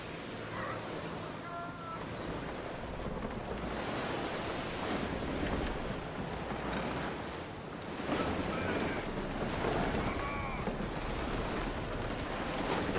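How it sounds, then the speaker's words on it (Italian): Steady wind gusts over rolling ocean surf in Assassin's Creed Black Flag, a continuous roar rising and falling with the swells, with no speech. "Il vento si è alzato ormai."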